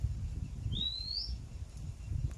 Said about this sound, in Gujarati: ચકલી જેવું લાગે